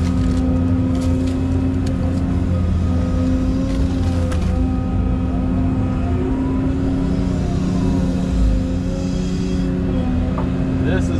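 Tracked machine working through deep swamp mud by a ditch channel, a loud steady engine drone with low rumble and faint clanks throughout.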